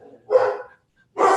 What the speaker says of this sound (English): I see my dogs are awake now.